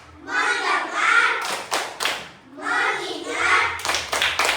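Third-grade pupils in an Indonesian classroom perform the tepuk fokus clapping rhythm game, chanting in unison between bursts of sharp rhythmic hand claps, the pattern repeating twice at close range.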